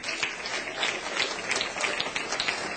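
Congregation applauding during a Spanish-language sermon on parenting, steady, moderately faint clapping filling the whole short stretch with no pause.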